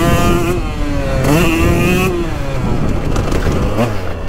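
A 2022 KTM 125XC two-stroke dirt bike fitted with an FMF Factory Fatty and Power Core 2.1 exhaust revs loud and close, its pitch climbing and falling through throttle blips without a break.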